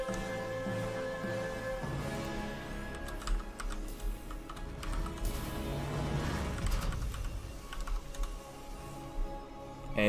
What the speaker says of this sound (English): So I am typing out the link in chat right now.